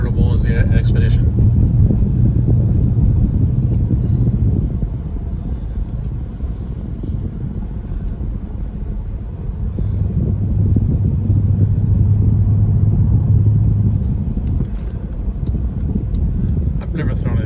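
A Dodge Durango SRT cruising in sport mode, its engine and road noise forming a steady low rumble from inside the cabin, with someone talking over much of it.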